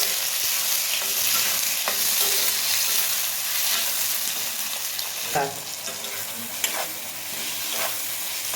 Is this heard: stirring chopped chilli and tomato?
yes